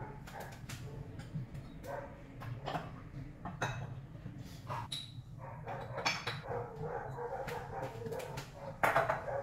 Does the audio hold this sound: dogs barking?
yes